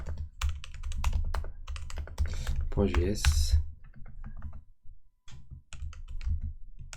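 Fast clicking on a computer keyboard while a file is being created, with rapid bursts of keystrokes and a short pause in the middle, close and fairly loud, and someone talks over part of it.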